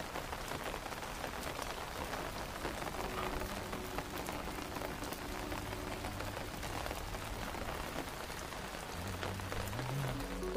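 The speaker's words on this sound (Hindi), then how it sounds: "पहाड़ों की रानी शिमला में भी बर्फबारी और बारिश जारी है।" Steady rain falling in Shimla, an even, continuous patter on surfaces throughout with no voices.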